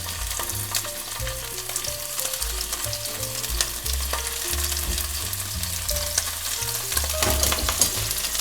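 Scallops pan-frying in olive oil, a strong continuous sizzle close by, with music playing underneath and no talk.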